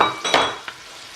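Pepper, paprika, black pepper and curry powder are stirred into a sizzling pan of Dolmio bolognese sauce for Ghana jollof rice, giving a few quick, close scraping stir strokes over a soft frying hiss.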